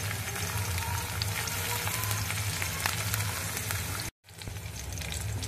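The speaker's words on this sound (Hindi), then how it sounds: "अब हम इन्हें अच्छे से फ्राई कर लेंगे।" Ginger and chopped garlic sizzle steadily in a hot pan, a continuous dense frying hiss that cuts out briefly near the end before resuming, with no talking.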